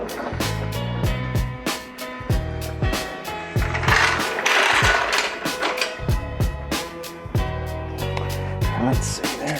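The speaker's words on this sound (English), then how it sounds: "Let's see, there is my power wrench" Power wrench driving bolts into Motobilt rocker armor on a Jeep Gladiator JT, loud close rattling bursts repeating in quick pulses with metallic clanks between them.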